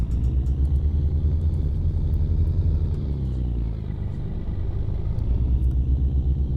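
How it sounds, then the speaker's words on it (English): A Volvo NH12 truck engine in American Truck Simulator rumbles steadily while driving, a loud continuous low drone with a slight dip in pitch midway, sounding like an old truck. "It sounds like an old truck, you know? A real old truck."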